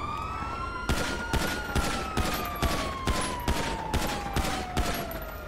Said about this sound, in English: I open fire on that vehicle.